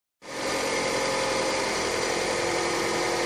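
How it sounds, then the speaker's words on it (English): A van's engine starts and settles into a steady, loud idle with the air conditioning running on max, a dense continuous rumble and whir that holds unchanged after a brief silent start. "we got the engine running, the air conditioning on max."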